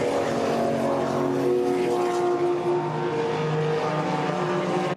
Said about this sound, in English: legendary racing cars from yesteryear back out on the tarmac and racing hard.